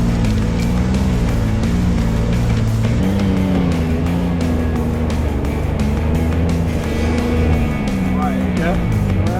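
An off-road vehicle climbs a steep hill on the Hell's Revenge trail, its engine roaring loud and close without a break and rising in pitch as it pushes uphill, with voices under the engine noise.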